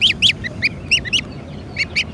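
Young goslings call in high, thin peeping bursts, repeated in quick clusters close by over a low background rumble.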